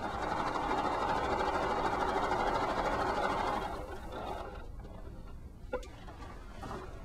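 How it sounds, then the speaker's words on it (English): A sewing machine stitching a quarter-inch seam through fabric stabilized with interfacing, its steady mechanical whir loud and continuous for several seconds before dropping in level, with a small click near the end. "Now don't be intimidated about sewing over this interfacing."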